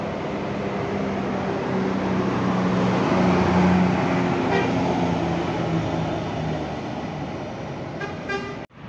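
Loud, idling bus engines rumble steadily at the exit of Purabaya Bungurasih bus terminal in Surabaya, with a horn tooting near the start and some clanking toward the end.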